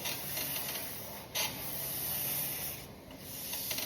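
A sanding block is pushed by hand along a car panel during paint prep, giving a steady, close, broadband rasp in long front-to-back strokes with brief lifts between passes.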